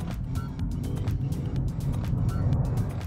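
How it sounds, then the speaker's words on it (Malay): A Proton eMas 5 electric car launches hard from a standstill, giving a steady low road and motor rumble with repeated short ticks and clicks on top, and no voices over it. "Okay, jom kita rasa power kereta ni nak buat quick launch."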